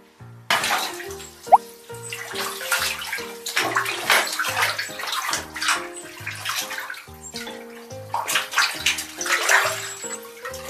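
Water splashes and sloshes in a bathtub during an Asian small-clawed otter's bath, a close, continuous churning with irregular surges and drips.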